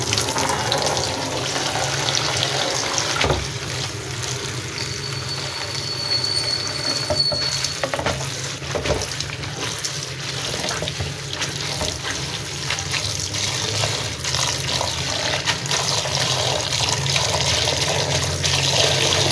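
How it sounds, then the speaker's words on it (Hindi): Steady running water pours and splashes continuously, like a tap filling a container, with a constant wash of noise throughout, as clean water is poured to wash fenugreek leaves. "फिर साफ पानी डाल लेंगे।"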